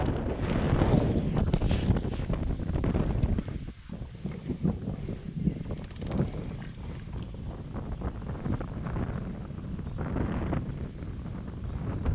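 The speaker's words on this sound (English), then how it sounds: "This wind came out of nowhere." Sudden gusty wind buffets the microphone on a fishing outing on the water, a loud rumbling roar that eases slightly midway but keeps blustering throughout with no clear talk.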